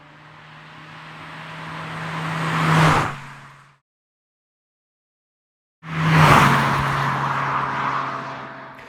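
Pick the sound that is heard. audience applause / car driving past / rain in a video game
car driving past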